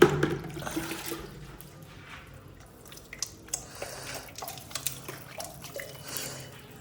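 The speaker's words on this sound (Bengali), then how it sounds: "এখন এসছি এই গাছে জল দিতে" Water poured onto garden plants: a soft, fairly quiet trickle and splash with scattered drips, heard close with no talking.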